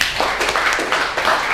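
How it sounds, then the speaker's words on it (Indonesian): Brief clapping from a classroom group, a few bursts of claps, close and fairly loud, with no talking. "Kasih tepuk tangan semuanya"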